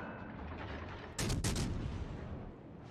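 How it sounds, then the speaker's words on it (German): Naval gunfire in World of Warships Legends: a pair of heavy booming blasts in quick succession, standing out loudly over a steady low rumble of background battle noise. "Versuchen die ganze Zeit hier noch ein bisschen über die Insel zu schießen."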